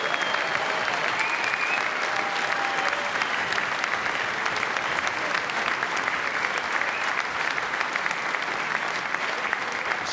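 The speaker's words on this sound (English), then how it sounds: "Another round of applause, please," Sustained, dense applause from a large audience fills an arena after a Welsh Open snooker final between Stephen Maguire and Stuart Bingham, steady and loud for the whole stretch with no clear voices above it.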